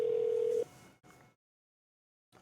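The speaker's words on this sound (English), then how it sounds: "All right, we're ringing." An outgoing phone call rings back with a loud steady tone of about half a second, a quieter trailing burst, silence, then the next tone starting.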